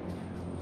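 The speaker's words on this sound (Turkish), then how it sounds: "Uçak sesleri" Aircraft engine drone from a plane passing overhead in the battle royale game H1Z1, a steady broadband roar holding at even loudness throughout the short moment with no voices.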